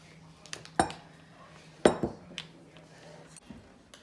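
Eggs and vanilla go into a bowl of keto pancake dry ingredients, giving a few sharp clinks of a utensil against the bowl separated by quiet pauses, close and clear.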